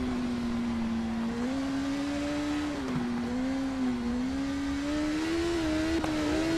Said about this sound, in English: And off we go again aboard the BMW.